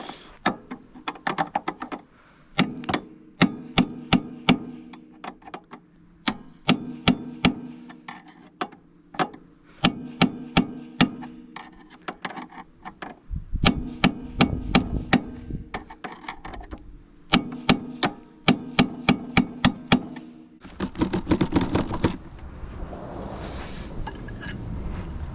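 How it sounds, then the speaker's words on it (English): Hammer knocking a bolt out of a Fox Racing Float 3 shock mount on a Summit snowmobile: repeated sharp metallic strikes in quick bursts, close and loud, with short pauses between volleys and scraping near the end. "you can come in hammer out the screw"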